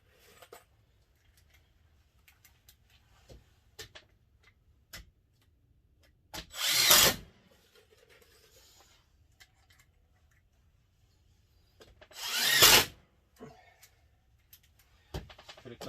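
Screws being driven into wood while building onto a DIY greenhouse: two loud bursts of a power driver a few seconds apart, with light tapping and handling noises in between.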